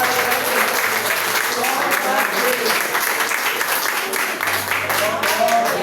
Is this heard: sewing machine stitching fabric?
no